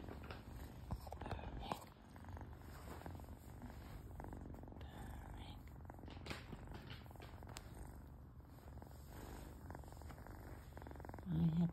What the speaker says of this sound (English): We could do more purring.